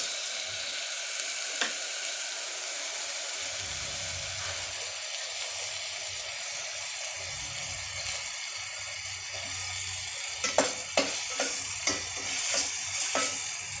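Green chillies sizzling and frying in a pan of oil for a biryani, a steady hiss throughout with a spatula scraping and stirring, sharper clinks near the end, no talking.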